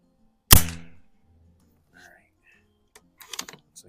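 A single sharp, loud shot from a Pinty tactical rifle at an outdoor shooting range, with a quick decaying report, followed after a pause by faint clicks and small handling noises.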